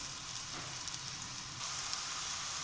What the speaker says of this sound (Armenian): Սոխը և գազարը միանգամից ենք ավելացնում։ Ու սկսում ենք տապակել։